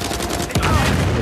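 Gunfire from the video game Uncharted 4 crackles as a dense, loud burst of rapid shots, a short rattling volley that swells after a brief lead-in.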